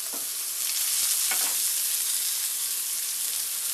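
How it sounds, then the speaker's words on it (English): A steak sears in a hot pan, giving a loud, continuous close-up sizzle with a few brief crackles and no voices. "we're getting nice char on that steak there"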